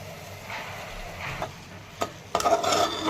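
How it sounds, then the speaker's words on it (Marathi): Spoon stirring rice with masala, sweet corn and salt in a pan, a soft scraping swish that turns into a louder burst of scraping and faint sizzle near the end. "तर असं आता छान मिक्स करून घेते"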